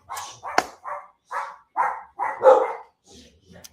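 A dog barks repeatedly in short, sharp bursts, several barks in a row at close range, with a faint whimper near the end.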